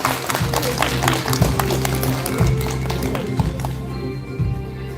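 An audience claps at a political party's founding convention, a thick patter of many hands over a low steady hum that thins out toward the end.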